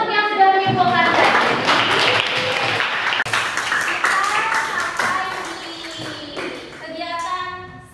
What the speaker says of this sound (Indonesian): tepuk tangan untuk yang sudah menyimpulkan tadi